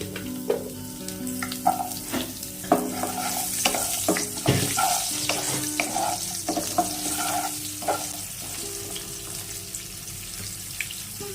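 Drumstick vegetable pieces frying in a pan for a Bengali dal shukto, a steady close sizzle with stirring clatters and intermittent scraping throughout, no one speaking.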